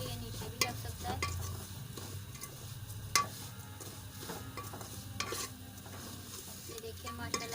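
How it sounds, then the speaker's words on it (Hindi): Sweet daliya porridge stirred in a pan, a steady scraping stir over a soft sizzle, with a few sharp utensil knocks against the pan, close and continuous without talk. "इसको अपने हिलाते ही जाना है।"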